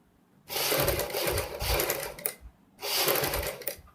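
A sewing machine stitches the neckline of a kurti in two long runs of rapid, steady needle chatter, with a short pause between them, close and fairly loud with no talking.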